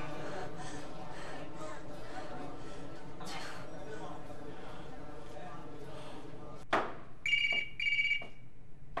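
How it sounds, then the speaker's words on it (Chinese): A telephone rings with short bursts of electronic trilling near the end, after people talk over it. "接电话。"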